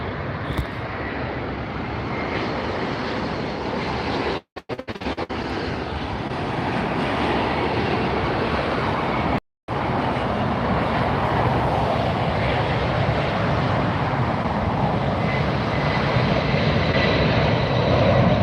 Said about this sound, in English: the 747 passenger jets landing, and departing from this side